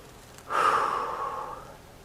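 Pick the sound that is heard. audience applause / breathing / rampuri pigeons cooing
breathing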